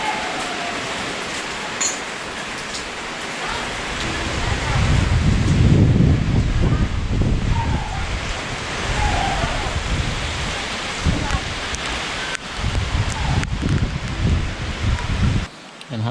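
Heavy rain pours steadily in a rural Bicol setting, a dense continuous roar with gusts swelling and easing over sixteen seconds, drumming close and loud without pause.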